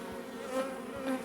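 Honey bees buzz around an open hive, a faint close hum with brief individual wingbeat tones rising and fading over a second.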